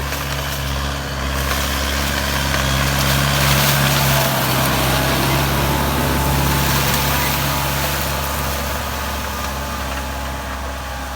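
A Kubota M108S tractor engine pulling a disc harrow through sugarcane stubble roars steadily at high revs, loud and close, with a slight rise and fall in pitch throughout.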